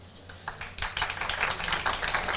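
Audience clapping at The Arab American News 30th anniversary gathering, quiet and somewhat distant, rising after a short lull into a brief, steady patter of many hands.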